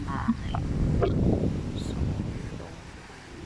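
Strong wind gusting around a corner house, a steady low roar with rustling that swells over the first two seconds and eases slightly, heard under a person's brief speech.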